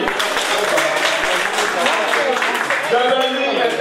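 Audience applause for the village of Djamani at a Malian women's gathering in France for 8 March, a dense steady wash of clapping throughout with voices mixed into the crowd noise.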